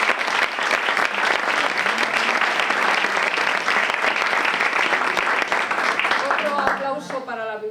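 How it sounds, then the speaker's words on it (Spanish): A library audience gives sustained, dense applause at a storytelling event, steady throughout before fading into a voice speaking at the very end. "Un aplauso, por favor."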